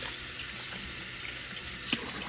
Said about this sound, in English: I'm going to get my hot water